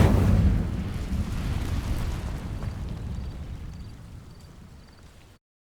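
A fiery Incendio spell bursts from a wand in Hogwarts Legacy, a loud roaring whoosh at the start that rumbles on and slowly fades over several seconds, with no talk.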